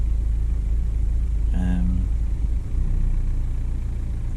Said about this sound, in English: I can hear the engine note changing, so that's all working fine.